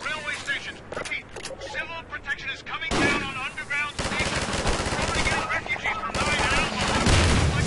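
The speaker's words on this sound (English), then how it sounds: "So I'm ambushing the machine gun nest." Machine gun fire echoes in Half-Life 2 as a machine gun nest is ambushed, loud sustained bursts and sharp cracks that grow heavier and nearly continuous toward the end, with someone talking over parts of it.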